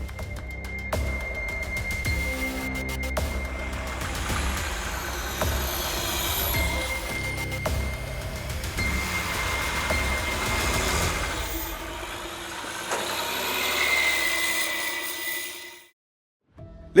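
A Kalyani M4 armoured personnel carrier rumbles continuously as it drives, its heavy engine droning at steady loudness with shifting tones before cutting off abruptly near the end.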